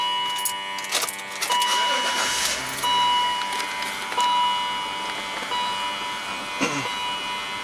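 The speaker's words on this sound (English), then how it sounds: "I'm gonna shut the car off again, start it up again" A car engine that is being diagnosed for a misfire is restarted, with a gas analyzer in use. A steady, fairly loud running drone carries a few light metallic clinks and rattles for about eight seconds.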